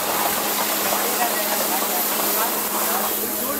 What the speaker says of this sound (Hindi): ये हमारा अभी ऑयल गरम हो रहा है